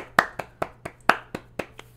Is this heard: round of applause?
yes